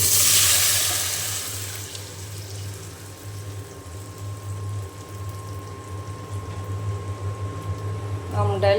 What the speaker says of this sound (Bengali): এখন আমি বাগারটা দিয়ে দেব।